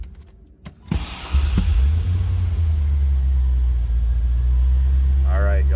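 A 1989 Chevrolet Corvette convertible with a 5.7 liter tuned port injection V8 cranks and fires after a few clicks, then settles into a steady, deep, close idle rumble with a voice briefly heard near the end.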